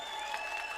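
An audience claps at a political speech in a short, faint burst of steady applause with no voices over it.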